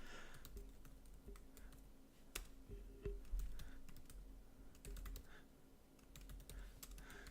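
Code being typed on a computer keyboard for a Java programming session, with steady, quiet key clicks in irregular bursts and a few louder keystrokes, with no talk.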